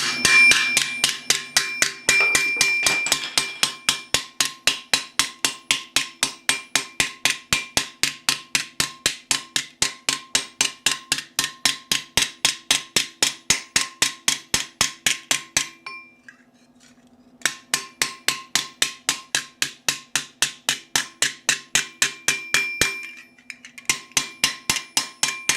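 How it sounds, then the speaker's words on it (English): A small hammer dishing the steel metacarpal plate of a Milanese mitten gauntlet, c. 1450 style: steady, evenly spaced ringing metallic blows, close and alone, with one short pause midway before the rhythmic striking resumes. "The metacarpal plate gets dished in the same way as the second bubble of the first lane we met, which is with a smaller hammer"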